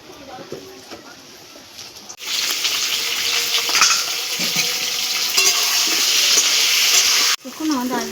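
Whole potatoes fry in a pan with salt for mutton-fat aloo dum, a loud broad sizzle that surges in suddenly and runs steadily before cutting off, with a voice speaking over the quieter start.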